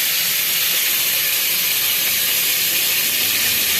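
Garlic-ginger paste hitting hot oil with lightly browned onions in a pan for masoor dal, giving a loud, steady, bright sizzle and hiss that holds evenly from start to finish with no talking.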